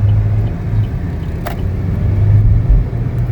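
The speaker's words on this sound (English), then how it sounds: "Drives really smooth, nice takeoff." A 2019 Chevrolet Equinox LT being driven, heard from inside as a steady low road and engine rumble with no speech.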